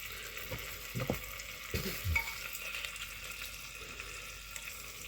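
Partridge layered with bacon and rosemary being basted in a pan: faint close sizzling with a few soft spoon-scrapes and splashes early on, then a quieter, steady fry.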